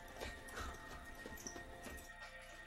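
A horse in the animated show Castlevania gives a soft whinny while hooves clip-clop in a few uneven steps, faint and mixed with other scene sounds.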